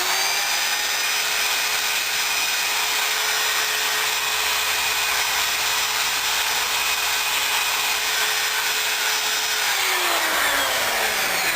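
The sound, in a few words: electric drill with brush cleaning a muffler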